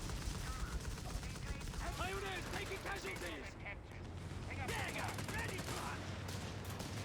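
Rapid machine gun bursts from Company of Heroes 3, an infantry MG holding back advancing Grenadiers, layered with other battlefield gunfire and mechanical noise and running steadily under a caster's continuous commentary.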